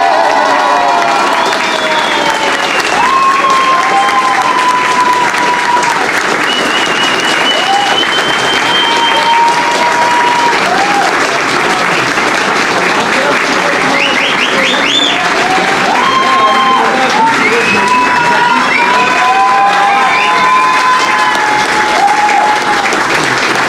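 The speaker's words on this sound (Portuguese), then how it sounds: "Então eu queria uma salva de palmas, porque elas merecem." Audience applause fills a jiu-jitsu graduation seminar, steady dense clapping with some cheering and crowd voices sustained loudly throughout, close and continuous.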